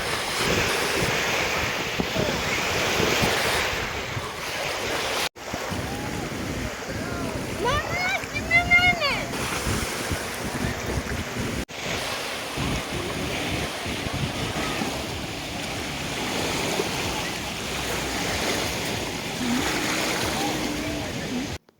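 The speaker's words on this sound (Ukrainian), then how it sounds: "Такі хвилі роблять лодки." Wake waves from passing boats wash and surge against the shore of the San Juan reservoir near Madrid amid steady wind noise, with people talking briefly in the background.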